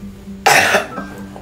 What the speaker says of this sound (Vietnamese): Ho che miệng lại nè.